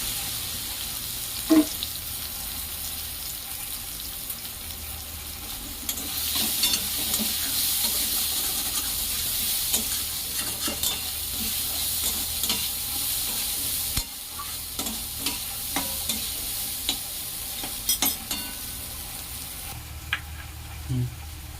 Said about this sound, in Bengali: এবার এই তেলটাতে, ডিম ভাজা তেলে আমি সোয়াবিনটা ভেজে নেবো।